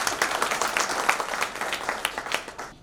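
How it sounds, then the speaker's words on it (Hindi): Audience applause at a crop-nutrition talk by an agricultural company CEO, dense scattered clapping from a moderate crowd, steady and fairly close, with no talking over it. "अब चाहें तो तालियां बजा सकते हैं।"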